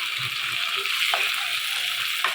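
Tomato frying in a pan, a steady soft sizzle with faint scrapes and clinks of a spoon stirring it.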